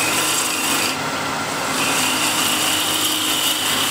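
A spindle gouge shears wood from a spinning bowl blank on a lathe, producing a loud, continuous rasping hiss that holds steady for several seconds with a brief lighter dip partway through, with no talking.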